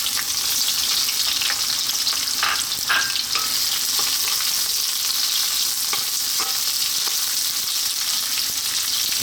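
Onions sizzle steadily in hot sunflower oil in a wok over high heat, a loud continuous frying hiss with occasional stirring scrapes and clicks, no voices.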